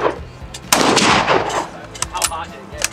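A .338 Lapua AR rifle fires one loud, close, sharp blast, followed by several fainter cracks and rattles as it echoes away.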